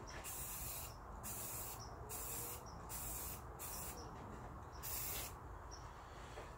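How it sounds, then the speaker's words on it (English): Spray paint from an aerosol can hissing onto EPO foam in repeated bursts of about a second each, separated by brief pauses, close and fairly quiet with no talking. "And we'll take our spray paint. Just do a nice even coat away from the paper towel."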